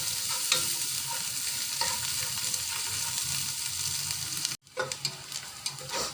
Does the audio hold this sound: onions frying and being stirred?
yes